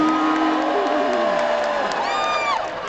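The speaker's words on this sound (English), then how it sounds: "Oh, look, she's booing me anyway." A live crowd jeers in a loud mix of sustained voiced booing and whoops, several drawn-out shouts rising and falling across a few seconds.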